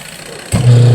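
A washing machine motor fitted with a new capacitor starts up abruptly halfway through, a loud, close, steady low electric hum after a quiet lead-in.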